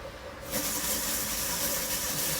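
A heat gun switched up to full power over coffee beans being roasted, a sudden loud steady blowing hiss that starts after a brief quieter moment and continues without a break.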